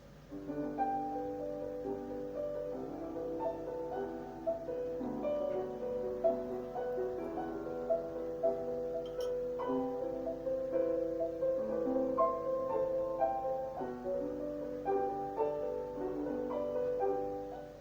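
Solo piano playing a clear, prominent melody line above softer, restrained accompaniment, flowing steadily and moderately quiet throughout without voices.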